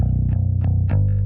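A bass guitar plays through a DI box, a steady, clean, low tone with a few plucked note changes, close and continuous with no other sounds.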